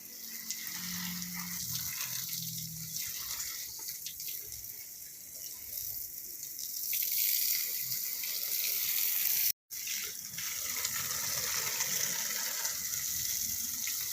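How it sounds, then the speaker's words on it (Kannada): Water sprayed from a hose across a home vegetable garden of pumpkin and melon plants, a steady hissing gush that runs continuously and grows slightly louder partway through, with a brief dropout. "ನೋಡಿ ಎಲ್ಲ ಕಡೆ ನೀರು ಸ್ಪ್ರೇ ಮಾಡ್ತಾ ಇದ್ದೇನೆ"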